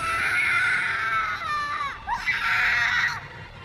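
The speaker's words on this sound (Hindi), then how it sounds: "उसके बाद बस उसकी चीखें सुनाई दी" Shrill, sustained screams of a victim in a horror story, two long drawn-out cries split by a brief gasp, loud and close with no talking over them.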